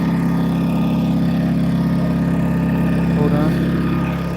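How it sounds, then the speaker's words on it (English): A diesel heater runs inside an Astro van on a snowy day, giving a constant close mechanical hum with a low tonal drone. A brief voice rises near the end. "I got the diesel heater going."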